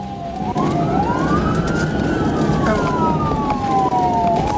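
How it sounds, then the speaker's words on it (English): A police siren wails nearby during a high-speed chase, its pitch sweeping slowly up and down over the rumble of a moving patrol car. "When emergency lights and siren were activated, the driver failed to stop"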